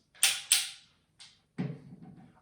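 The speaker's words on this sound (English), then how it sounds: "I'm going to come back here and tighten this. I do have a torque drive here, so I'm going to go ahead and use it." A torque driver set to 20 inch-pounds tightens the screws of a 4-inch Picatinny rail on a rifle. Two sharp clicking ratchet bursts come close together, then a fainter click, then a longer grinding creak, all near and with no talk.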